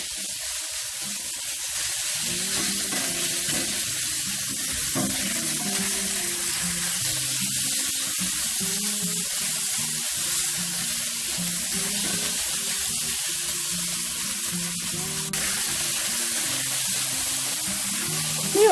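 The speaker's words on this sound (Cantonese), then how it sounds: "就俾呢個我哋嘅肉絲落去爆下佢" Shredded pork stir-fries in a wok, giving an even hissing sizzle that holds steady for a long stretch with soft music underneath.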